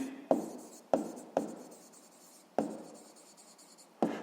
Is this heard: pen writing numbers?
yes